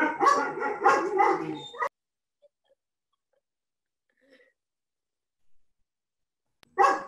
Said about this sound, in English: My dog is going to start barking now.